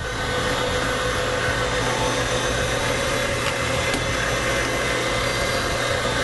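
A motorized pasta roller machine hums and whirs steadily as pasta dough is run through its rollers, a continuous close mechanical drone with no talk.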